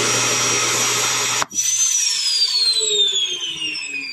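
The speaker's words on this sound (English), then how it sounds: "it will engage the vacuum and you can sweep any debris into it" A loud built-in shop vacuum in a 2018 Jayco North Point 387RDFS RV roars steadily, then cuts off abruptly and whines down in a falling tone as it spins to a stop.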